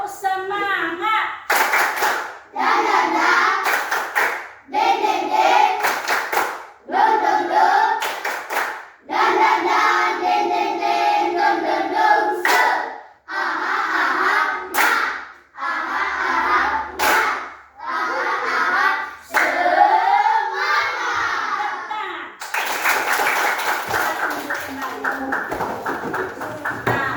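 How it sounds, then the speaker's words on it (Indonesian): Elementary classroom pupils perform a rhythmic spirit clap, loud patterned bursts of hand claps in several phrases, interleaved with chanted voices and brief pauses, ending in a sustained wider clapping burst. "Tepuk semangat."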